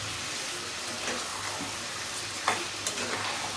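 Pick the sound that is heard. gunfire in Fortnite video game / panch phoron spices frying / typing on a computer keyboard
panch phoron spices frying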